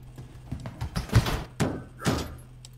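Foxy bangs on the office door in the FNAF Plus horror game, three heavy thumps about half a second apart after softer knocks, close and muffled, with no talk.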